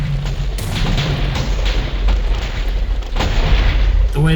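A redstone cannon in Minecraft fires fire charge projectiles, giving a series of deep, booming video game blasts layered under continuous rumbling noise, loud and close.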